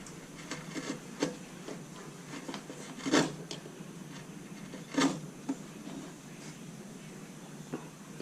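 Fine gouge carving hair texture into wood, with soft, short scraping strokes and a few sharper cuts, faint and close in a quiet room.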